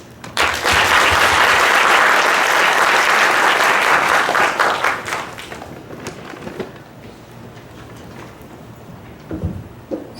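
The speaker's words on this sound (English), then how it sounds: "So let's give a warm applause to invite Professor Tomizuka to give our first keynote speech." A conference audience at a university plenary session applauds to welcome the keynote speaker, loud, full clapping for about five seconds, then fading to scattered claps and quiet room noise.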